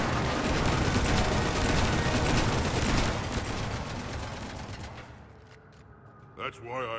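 Rapid, dense gunfire from the video game Mass Effect 3 roars in a sustained burst that fades over several seconds, with brief voice-like sounds near the end.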